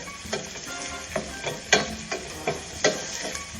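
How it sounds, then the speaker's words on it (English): Food for a simple curry base sizzles steadily in a hot frying pan, with a few sharp clinks of a utensil stirring at irregular intervals. No talking. "You can still hear it sizzling beautifully."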